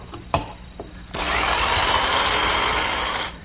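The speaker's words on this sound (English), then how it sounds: "So I'm finishing them up with my handheld jigsaw and the finest," A handheld jigsaw with a fine, narrow blade cuts decorative wood panels, starting after a few light knocks and then running as one steady, close buzzing cut for about two seconds before stopping.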